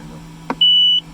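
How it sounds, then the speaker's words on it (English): A short click followed by a single steady electronic beep from a Piper Navajo aircraft's trim system test, clear and close, lasting under half a second. "you want to hear 4 beeps out of the trim to say that it's good"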